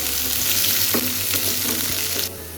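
Green chilies fry in hot oil in a pan with a loud, steady sizzle and crackle, plus a few stirring scrapes. The sizzle drops slightly toward the end, and no one speaks.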